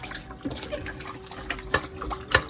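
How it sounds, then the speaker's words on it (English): Turkey wings being washed by hand in vinegar and water in a kitchen, with close, irregular splashing and sloshing bursts, a few sharper splashes standing out. "now I'm just going to wash it in that vinegar and water"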